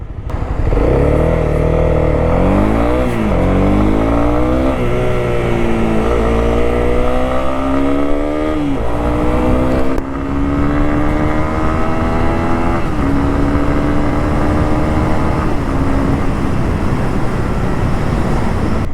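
A Honda CB300R motorcycle engine revving high and climbing through several gears on the road, loud and close, with rising pitch sweeps between shifts and steady wind roar.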